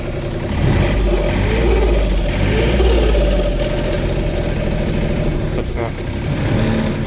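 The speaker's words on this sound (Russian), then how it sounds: "Можно послушать, как работает двигатель." A used Japanese mini excavator with a 0.04 cubic metre bucket and 2 m digging depth runs its engine steadily at idle, a continuous low mechanical drone close by, with a brief clank near the end.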